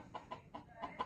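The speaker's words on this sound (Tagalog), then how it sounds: "yan yung aking labuyong manok" A wild junglefowl chicken clucks five short soft times in an uneven rhythm, quiet and fairly close, with no one talking over it.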